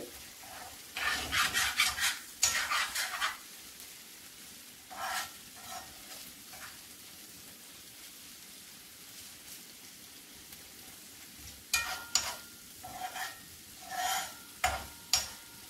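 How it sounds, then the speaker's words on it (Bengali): Spinach for a spinach-tomato bharta is fried and stirred in a pan, with bursts of scraping and sizzling at the start and again near the end, separated by a long stretch of soft, quiet frying. "এটা আমি ভাজা ভাজা করে নেব।"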